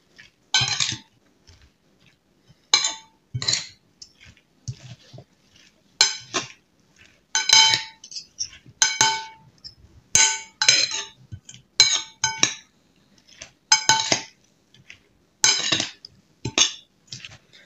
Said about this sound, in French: et là, ben, on remue